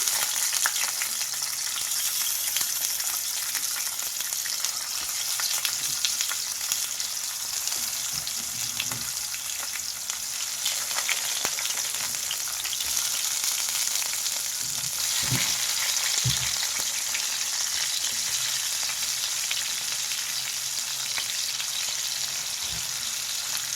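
Tomatoes roast in hot oil in a pan with a continuous close sizzle and crackle, broken now and then by a few louder pops and spatula taps.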